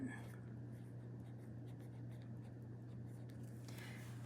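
Fountain pen with a medium nib scratching across paper, a faint continuous writing sound close by, under a steady low hum.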